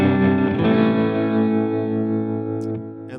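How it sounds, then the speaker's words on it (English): Sustained instrument tone run through a chain with a second delay and reverb, rich layered harmonics ringing steadily and washing out into a long reverberant tail, loud and alone without talk. "So now I just added a second delay and reverb to my channel, or my chain."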